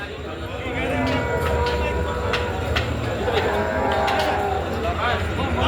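A cow in labour lows with drawn-out, strained moans while people talk nearby over a constant low rumble.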